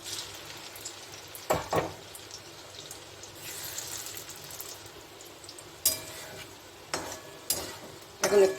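Bread pakora fries in moderately hot oil with a soft continuous sizzle close by, broken by several sharp clinks and scrapes of a utensil stirring in the pan; no one talks.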